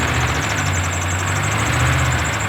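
A Dodge Ram truck engine runs close and loud, with a steady, rough idle that holds evenly throughout and no voices.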